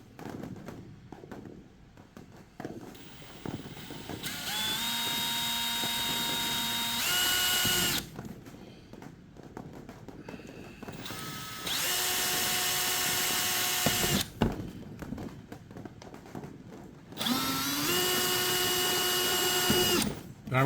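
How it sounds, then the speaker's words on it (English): A power drill bores a pilot hole into a kayak hull in three separate whining bursts, each one rising in pitch as it spins up, with quieter handling noise between them; close, no talk. "make sure you pre-drill a pilot hole"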